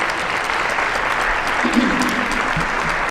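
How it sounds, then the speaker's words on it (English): An audience at a family and community health summit applauds the morning's workshop presenters, a steady, dense burst of clapping from a large crowd with a brief voice underneath. "we need to give a round of applause to all of the workshop presenters from this morning"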